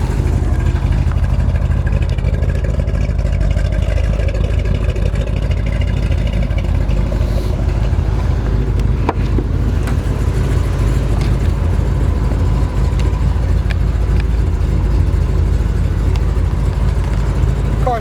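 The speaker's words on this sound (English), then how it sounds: "The car sounds phenomenal, as you can hear it." A 1969 Chevrolet Corvette engine runs with a loud, continuous throaty rumble close by, steady throughout with slight rises and falls.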